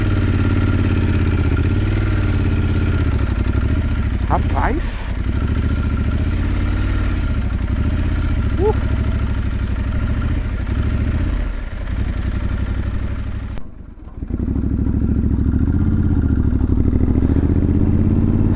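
A motorcycle ridden off-road on a dirt track, its engine droning steadily close up through rumbling and clatter, with a brief dip near the end and a man's short remark once.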